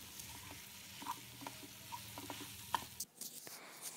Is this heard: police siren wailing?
no